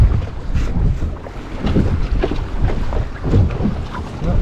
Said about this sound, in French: le vent se lève et l'ancre a des difficultés à rester en place